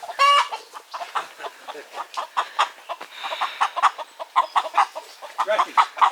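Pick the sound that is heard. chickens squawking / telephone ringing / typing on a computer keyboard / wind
chickens squawking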